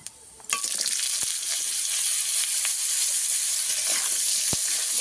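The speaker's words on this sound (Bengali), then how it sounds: "কুমড়োটাকে আমি কিছুক্ষণের সময়ের জন্য ভাজবো তেলের উপরে দিয়ে" Thinly sliced pumpkin drops into hot oil in a wok and bursts into a loud, steady sizzle that continues unbroken, with a couple of faint utensil knocks.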